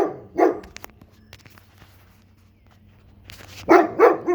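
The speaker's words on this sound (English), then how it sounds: "My crazy dog." A dog barks in a garage, with a short burst of barks near the start and another cluster near the end, separated by quiet room tone and faint knocks.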